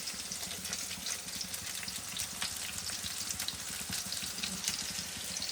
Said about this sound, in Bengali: বেগুন ভাজা একটু বেশি তেলে করতে হয়